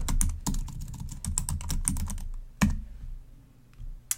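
Rapid, uneven keystrokes on a computer keyboard as a password is typed, close and clear, with a brief pause before a final louder key press and one last tap at the end.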